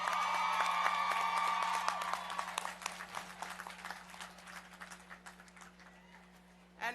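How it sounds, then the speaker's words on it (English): Commencement audience applause for Dr. Medina: clapping starts dense and loud, then thins into scattered individual claps that taper off toward the end, with a steady low hum beneath. "let's have another round of applause for Dr."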